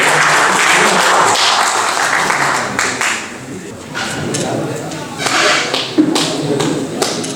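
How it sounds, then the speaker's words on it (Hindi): Loud applause greets journalists and social workers being honored at an awards event, with sharp individual claps and slaps standing out over the crowd's dense clapping, rising and falling across the stretch. "जोरदार तालियों से स्वागत किया जा रहा है।"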